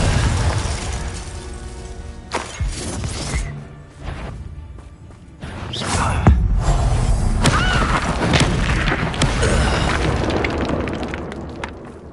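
Confringo fire spell explosions in the Hogwarts Legacy video game, loud booming blasts and shattering crashes over a dense, rumbling battle mix, with sharp hits near the start and a sustained roar afterward.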